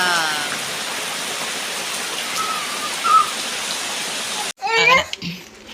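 Steady heavy rain pours down for several seconds, a dense continuous hiss, then cuts off abruptly as a voice speaks briefly.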